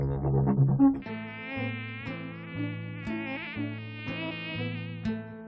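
Tsetse fly buzzing close by, a sustained insect drone with wavering pitch and slight pulsing, heard alone.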